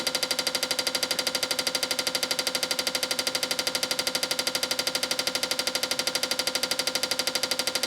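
A fuel injection tester pulses a set of fuel injectors through an idle test, giving a fast, perfectly regular mechanical ticking buzz that runs unbroken and fairly loud from start to finish.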